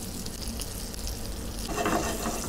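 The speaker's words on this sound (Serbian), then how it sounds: "Tigaj na vatru, puter. Dodajemo meso. Okrećemo." A beef burger patty fries in butter in a hot pan, a steady close sizzle with a swell of hissing spatter toward the end as the meat is turned.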